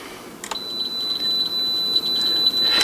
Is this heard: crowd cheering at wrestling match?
no